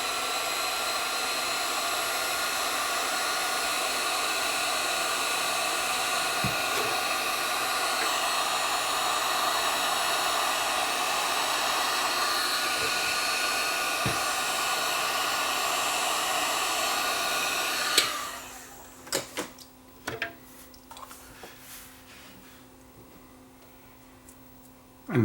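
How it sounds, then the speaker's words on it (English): A heat gun shrinks heat shrink tubing during repair of a Sunbeam Big Pop popcorn popper, blowing with a loud, steady, hair-dryer-like rush for about eighteen seconds. It then shuts off, followed by a few light clicks and handling knocks. "Now we'll give it the heat gun treatment to shrink the heat shrink"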